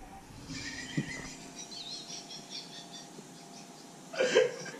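A sheep bleating in a backyard, with two distinct cries, one early and a louder one near the end, over quiet background hum.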